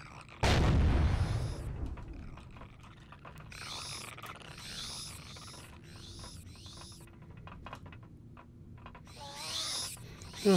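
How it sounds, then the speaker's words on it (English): A sudden loud, close explosion in Empyrion Galactic Survival booms and rumbles away over about a second, followed by scattered mechanical clanks and several short hooting tones, with no talking. "I definitely blew up something over here"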